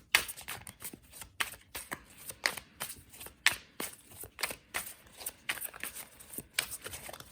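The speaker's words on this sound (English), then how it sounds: "shuffling a million times. We're going to shuffle 2 more times." Tarot cards are shuffled repeatedly close by, a quick series of crisp riffling and slapping bursts in a steady rhythm without talk.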